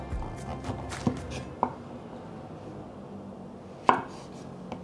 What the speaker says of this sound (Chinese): 把杏鲍菇切成条状。